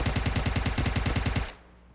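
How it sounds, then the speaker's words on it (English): Rapid automatic gunfire in the video game PUBG, a fast even burst of about a dozen loud shots lasting about a second and a half, then cutting off to quiet. "I've heard gunshots around me"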